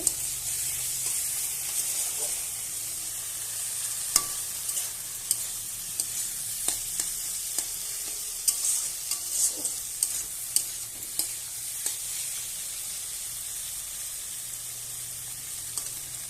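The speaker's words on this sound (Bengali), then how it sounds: "এবার আমি ভালোভাবে কষাবো" Boiled potatoes, pointed gourd and prawns frying in a pan make a soft, continuous sizzle and hiss, broken by irregular scraping and tapping of a spatula stirring against the pan. No one speaks.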